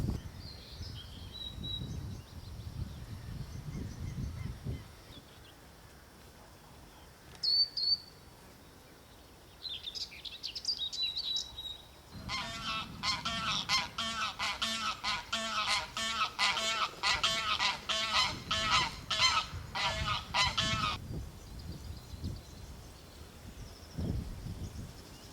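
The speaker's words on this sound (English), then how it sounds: "Listen to the bird sounds." Geese or similar fowl honking outdoors along the Peddars Way countryside trail, a long burst of rapid, repeated honks from a flock, with scattered bird calls and light wind before and after.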